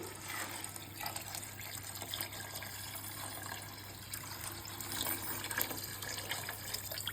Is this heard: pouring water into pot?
yes